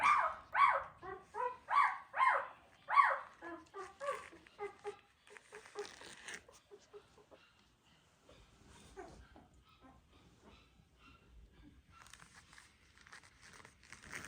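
A merle-patterned sheepadoodle puppy gives a quick series of about eight loud, close yips and barks over the first five seconds, then falls quiet with only faint rustling and soft background noise.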